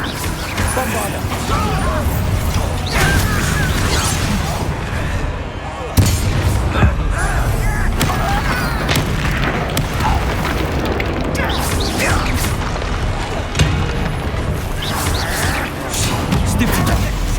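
Bombarda spell explosions crack and boom repeatedly during Hogwarts Legacy combat, loud blasts landing among clanking mechanisms and other spell effects, with a player talking throughout.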